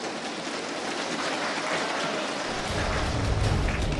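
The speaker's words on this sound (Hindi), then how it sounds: "तालियों के इस शोर के साथ 10 साल बाद राज्यसभा में हामिद अंसारी की विदाई हो गई।" Applause in the Rajya Sabha, a dense steady patter of many hands clapping that swells louder in the second half, filling the chamber without pause.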